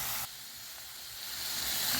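Minced or finely chopped garlic sizzles in a hot pan with no oil while pork ribs cook, a steady close hiss that swells slightly toward the end.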